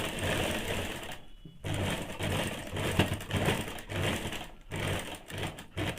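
Sewing machine stitching a strip onto a high-neck blouse, a steady close rapid whirring run with two brief pauses where the needle stops, then resumes.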